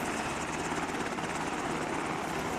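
Helicopter in a tactical team-based video game, a steady broadband rotor and engine roar that holds loud and continuous throughout without breaks.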